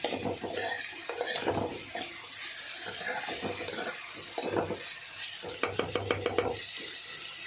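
A bitter gourd curry is stirred in a pan with a spoon, continuous scraping and gentle sizzling, ending in a quick run of rhythmic metallic taps against the pan's rim.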